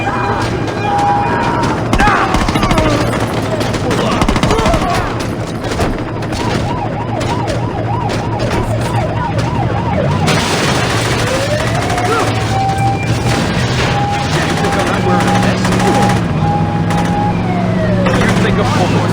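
Gunfire crackles in bursts during a shootout in the video game Saints Row, mixed with wailing police sirens, car noise and shouted voices, loud and busy throughout.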